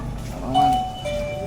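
A two-note doorbell chime sounds faintly, one tone and then a lower one about half a second later, over a low household hum with voices nearby.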